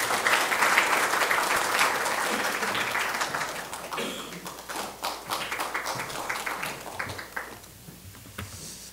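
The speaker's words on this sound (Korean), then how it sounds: "큰 박수로 맞이해 주십시오." Sustained applause from an audience at the opening of a university student presentation competition, loud at first and then thinning into scattered individual claps toward the end.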